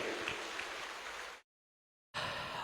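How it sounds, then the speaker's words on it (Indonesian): Dense, loud applause from a ceremony audience fills the opening, breaks off into a short silence, then resumes just as strongly. "kita beri tepuk tangan yang meriah untuk semangat pagi kita pada pagi hari ini"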